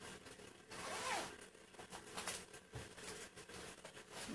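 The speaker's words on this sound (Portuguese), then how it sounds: "com zíper e plástico" A zipper on the plastic pocket of an organizer folder, pulled back and forth in several quick, close zipping strokes with light crinkling of plastic.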